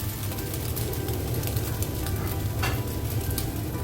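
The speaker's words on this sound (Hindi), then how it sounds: "एक चूल्हे पे हमारी चिकन बन रही है" Chicken sizzles in a pan over a stove flame, a dense, continuous crackling fry heard close and steady throughout, with no voices.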